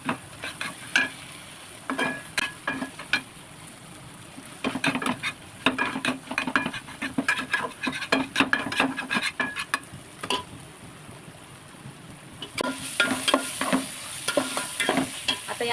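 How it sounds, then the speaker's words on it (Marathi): Chopped vegetables frying in a pan for Chinese chicken egg fried rice, a steady sizzle broken by repeated scraping stirs of a spatula against the pan, close and fairly loud with no talking. "तर अशी भाजी शिजून घ्यायची जास्त शिजवायची नाही आणि आता याची भुर्जी करायची"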